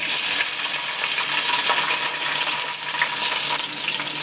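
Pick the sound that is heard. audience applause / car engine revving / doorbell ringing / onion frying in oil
onion frying in oil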